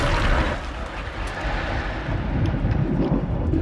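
A deep, rumbling boom from an explosion in State of Decay 2 rolls on for several seconds, loud and sustained, with no voices over it.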